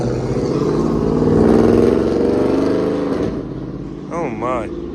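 A Camaro with an LT1 V8 engine drives and accelerates, its deep drone swelling to a peak and then easing off, with a brief voice near the end.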